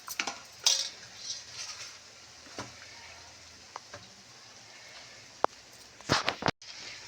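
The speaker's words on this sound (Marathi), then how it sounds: "मिक्सरचं भांडं जरा धुवून घेते मी" A mixer grinder jar being rinsed in a kitchen: scattered clinks and clatters of metal and dishware, with a sharp cluster of knocks near the end and no talking.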